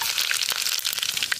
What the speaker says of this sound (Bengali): কড়াই গরম হয়ে গেছে, সর্ষের তেল দিয়ে দিছি। এখন ফোড়ন দেব গোটা গরম মশলা